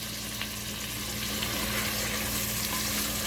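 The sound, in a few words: potato pieces frying with mutton in a pan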